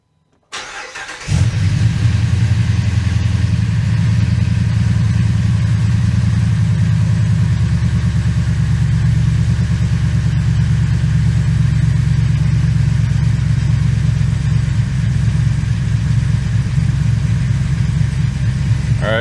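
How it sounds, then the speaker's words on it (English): A Jeep truck engine turns over and catches, then settles into a loud, steady idle rumble while warming up, continuing close and unchanging, with no talking. "So I'm gonna let the truck warm up a little bit."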